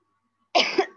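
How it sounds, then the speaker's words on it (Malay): A single sharp cough from a teacher during a lesson, close and fairly loud, breaking a short stretch of silence. "maaf ya, batuk"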